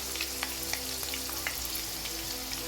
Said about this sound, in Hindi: 2 मिनट के लिए फ्राई करेंगे। साथ साथ चलाते रहेंगे,